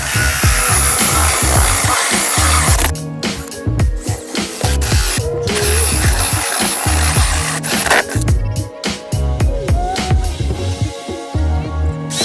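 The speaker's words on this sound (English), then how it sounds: "And then you take your circular saw, hopefully you have one that's sharper than this one, because I'm gonna struggle cutting through it." A circular saw with a dull blade struggles through wood for a plyo box build, making a loud, continuous grinding whine with uneven surges and brief dips as it labors.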